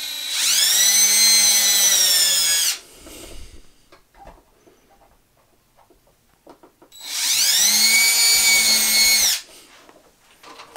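A power drill boring two holes during a DIY resin print washer build, two loud, steady whining runs of about two and a half seconds each, separated by a quiet pause with faint handling clatter.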